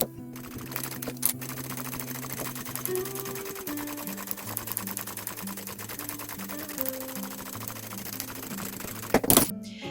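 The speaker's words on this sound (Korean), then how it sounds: "그리고 가방 둘레를 3mm 간격으로 재봉해 주도록 하겠습니다." Sewing machine stitching steadily around the edge of a glossy mini puffer bag, a fast continuous mechanical whirr with brief pauses and changes in speed, heard alone in a quiet room.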